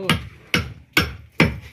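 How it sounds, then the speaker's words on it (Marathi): Hammer blows ring out during house construction work in the Konkan, four sharp, evenly spaced strikes about half a second apart, close and loud, with no talking. "आणि ठोकठोक करता"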